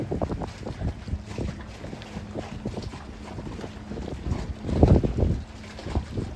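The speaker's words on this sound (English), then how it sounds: "that sloshing of the water, that always just makes me want to sleep" Water slaps and sloshes against a boat hull in uneven surges at Lamar, Texas, with wind buffeting the microphone throughout and a louder splash near the end.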